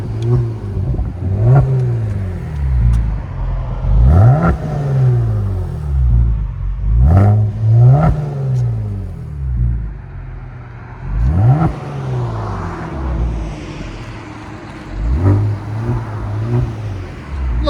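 A 2019 Kia Stinger 3.3L twin turbo V6 with an MBRP axle-back exhaust revs repeatedly, each sweep rising and falling as a deep, loud, close rumble, with shorter blips in between.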